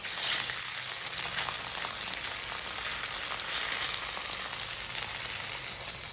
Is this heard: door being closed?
no